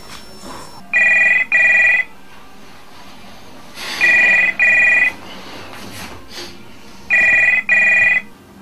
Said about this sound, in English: Let me try calling him again.